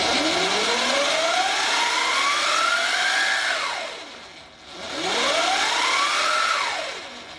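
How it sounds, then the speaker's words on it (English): A Sur-Ron Light Bee electric motorbike fitted with DID O-ring chains on both the primary and secondary drives revs twice. Each rev is a rising motor-and-chain whine that climbs for a few seconds and then falls away, close and fairly loud. "if you guys want to hear what a Sur-Ron sounds like when it's got two O-ring chains"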